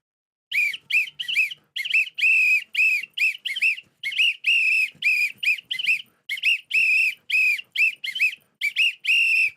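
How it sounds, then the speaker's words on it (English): A whistle shrills over and over in quick, sharp blasts, loud and close, some short and some held longer, in a choppy irregular rhythm with no talk around it. "Blow the whistle"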